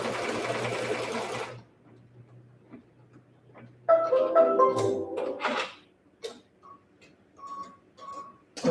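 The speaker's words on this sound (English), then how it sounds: "Now it's going to give us a placement stitch." Embroidery sewing machine running a placement stitch, a steady mechanical whir at first, then quieter with scattered clicks and brief higher tones, close by and without talk.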